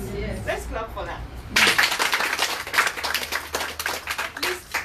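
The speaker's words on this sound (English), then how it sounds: "Let's clap for that." Clapping from a small audience at a business gathering in Kenya, breaking out sharply after a quieter stretch of talk and continuing as dense, uneven claps over the rest of the clip.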